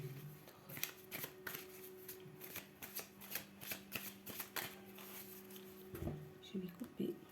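Tarot cards riffle-shuffled in repeated soft papery bursts, close and steady over several seconds, with a voice talking quietly beneath and a short clatter near the end.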